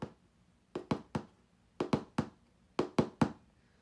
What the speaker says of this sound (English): suddenly, you hear a slow, methodic tapping sound